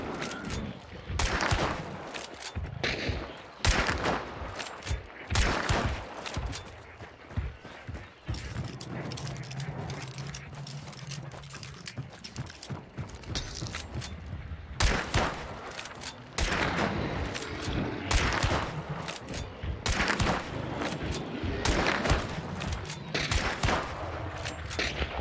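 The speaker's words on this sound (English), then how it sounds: "I'm shooting at the dude." Repeated gunshots in the western shooter Hunt: Showdown, sharp cracks fired in quick succession amid clattering game effects, loud and close throughout with only short pauses.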